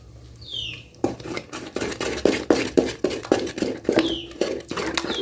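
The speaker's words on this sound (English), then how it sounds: "I'll now add in the spices. It's coriander and cumin seeds." Coriander and cumin seeds tipped into a cooking pan for chicken masala, giving a run of sharp clattering, sizzling hits and scraping pan sounds in an uneven rhythm, close and fairly loud, with no voices.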